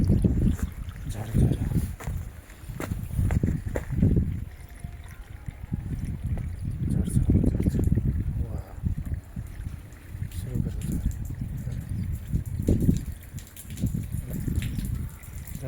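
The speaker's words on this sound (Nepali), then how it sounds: "पानी झर्छ हेर्नुहोस्, झर्छ झर्छ झर्छ झर्छ" Water tumbles steadily from a small waterfall beside a flight of stairs, a continuous rushing wash heard close by, with someone talking over it throughout.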